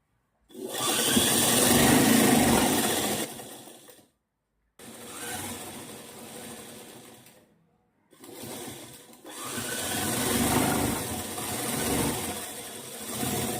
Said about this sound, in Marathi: मग याला स्टिचिंग करायचं